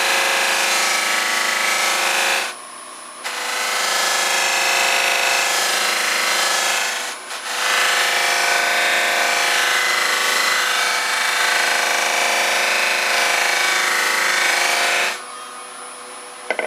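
A wooden bowl pressed against a spinning Chestnut buffing wheel, a loud, continuous whirring rub that breaks off briefly three times as the bowl is lifted and repositioned.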